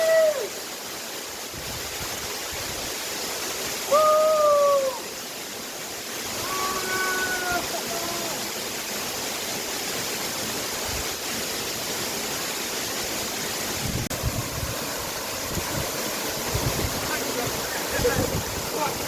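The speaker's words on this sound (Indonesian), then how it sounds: "mandi di bawah kucuran derasnya air terjun atau Curug Nangke ini." Curug Nangke waterfall pours in a continuous broadband rush, steady and fairly close, with brief bird-like chirps and occasional voices faintly over the water.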